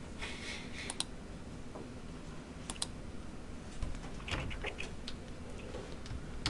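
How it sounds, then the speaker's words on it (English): Computer keyboard being typed on, a faint scatter of light irregular key clicks over a low background hiss. "I can basically type a few words"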